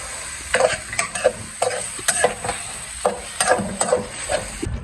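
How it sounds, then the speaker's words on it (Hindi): Medium tomatoes and green chillies being stirred into onions in a hot frying pan, a steady sizzle broken by rhythmic, close scrapes and knocks of the spoon against the pan. "मैंने अब इसमें 5 से 6 अदद मीडियम साइज़ के टमाटर ऐड कर दिए हैं और मैं इन्हें अच्छी तरह मिक्स कर रहा हूँ"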